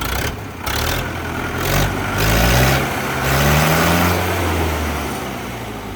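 An old Swaraj 855 tractor engine runs close by, a loud steady diesel rumble that swells and eases in slow surges.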